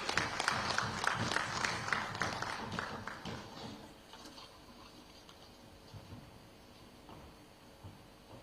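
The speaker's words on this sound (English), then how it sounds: "please join me to give a very big applause to the Honorable Minister for this wonderful presentation" Applause from an audience after a government minister's presentation during a televised manifesto-week event, a dense burst of clapping at first that gradually fades to quiet hall ambience.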